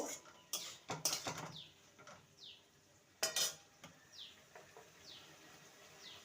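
Gourd and raw chickpea curry with a spoon of sugar stirred in a pan, a few sharp scrapes and clinks of utensil against metal, with quiet gaps between them.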